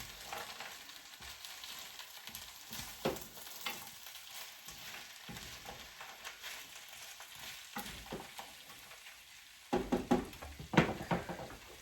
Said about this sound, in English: Let me give my potatoes a stir.